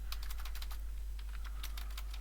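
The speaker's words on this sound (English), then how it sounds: "Oh, I hate my typing." Close, brisk typing on a computer keyboard gives a rapid run of sharp key taps over a loud constant low hum, with no speech.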